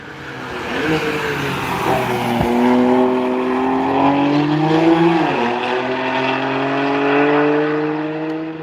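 BMW E92 race cars, one team running three of them, speed past at the Nürburgring's Verseifen corner. Loud sustained engine tones rise and fall through gear changes, with a brief dip and a downshift mid-pass over continuous track noise.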